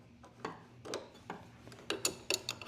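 Metal wrenches fitted onto a CNC spindle collet nut and turned to loosen it, a series of sharp metallic clicks, clanks and ratcheting knocks, close and fairly quiet, growing quicker toward the end with no talking.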